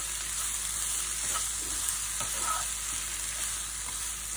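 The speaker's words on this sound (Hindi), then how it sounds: "हम इसमें अभी ये प्याज बनाएंगे। प्याज को हमें ज्यादा पकाना नहीं है, बस वो थोड़ा सॉफ्ट हो जाए।" Onions frying and being stirred in a pan, cooked for aloo sabji for masala dosa: a steady close sizzle runs throughout, with soft scrapes and clinks of the spoon against the pan.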